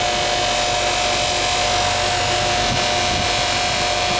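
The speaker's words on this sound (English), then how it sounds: "now we're working it on the buffing wheel" A motorized buffing wheel runs steadily as a knife blade made from an old saw blade is polished against it, a continuous close whirring hum with a fine high hiss and no voices.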